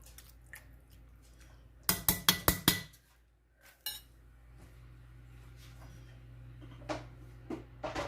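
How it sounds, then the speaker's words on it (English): Creamy chicken pasta casserole ingredients with mozzarella being stirred in a dish, a quick burst of five or six spoon clinks and scrapes against the bowl, then quiet with a few soft taps and drips. "now we're going to mix this in here and then we'll pour it into our dish"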